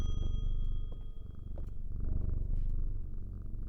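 A cat purring while being petted in the video game Strange Antiquities, a close, continuous rumbling purr with a faint high tone and no talk.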